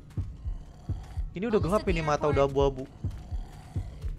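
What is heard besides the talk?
heartbeat in video game Left 4 Dead 2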